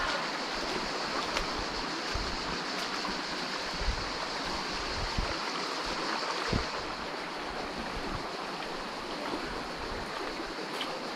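Steady rushing water of a canyon stream, heard from up close while someone wades upstream through it, a continuous broadband wash with occasional splashes and no speech.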